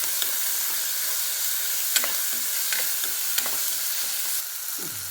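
Chopped onions and tomatoes sautéing in a pan for a simple sandwich filling, a continuous sizzling hiss with occasional spatula scrapes and taps, close and steady.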